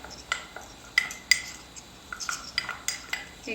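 A metal spoon clinks and scrapes against a bowl while mixing dried oregano and other herb seasoning for pork tenderloin, bright irregular taps close by in a quiet room.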